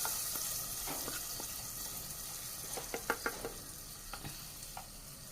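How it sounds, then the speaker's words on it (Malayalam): A chili powder tempering poured into a dal and drumstick leaf curry, faint sizzling with a cluster of soft splashy stirring clicks near the middle, quiet and close with no voices. "എന്നിട്ട് നമുക്ക് കറിക്ക് ഒഴിച്ച് കൊടുക്കാം."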